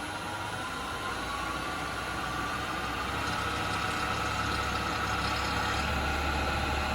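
A wood lathe spins slowly with a live-edge yew bowl blank mounted, giving a steady, even motor hum with a broad whooshing hiss, constant and unbroken throughout with no voices.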